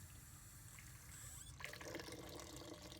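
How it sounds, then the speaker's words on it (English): Water pours into an Instant Pot inner pot to cover red beans by about an inch, a steady rushing fill that grows fuller partway through, alone and moderately quiet. "Using the inner pot, I just cover the red beans with about 1 inch of water."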